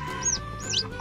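A newly hatched, tiny yellow chick with black stripes peeps, two or three thin, high sweeping cheeps close by over a faint background hum.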